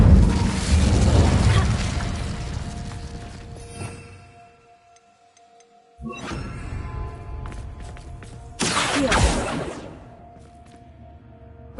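Fire spell cast in Hogwarts Legacy on PS5: loud booming bursts with whooshing flame, a heavy blast at the start, then two more sharp bursts a few seconds apart, each fading into low rumble.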